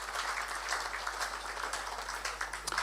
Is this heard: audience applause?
yes